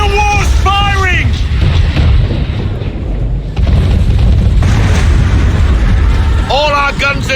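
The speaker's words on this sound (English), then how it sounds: "Man of war's firing!" Heavy cannon fire from a man-of-war warship in Assassin's Creed III, a loud, dense barrage of rumbling booms across the whole stretch, with shouted voices rising over the battle at the start and end.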